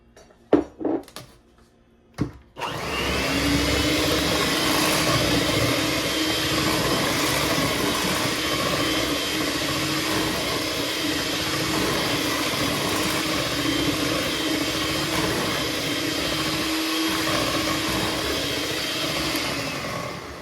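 A mixer blends a stick of unsalted butter for sweet potato cornbread, starting after a few clunks and taps, then running as a loud, steady motor whir for the rest of the time, close and unbroken.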